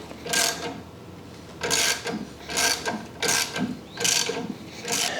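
Ratchet wrench clicking in five quick bursts while 13 mm bolts are tightened during assembly of a Rolux x25 reel mower, the pawl chatter close and crisp with brief pauses between strokes.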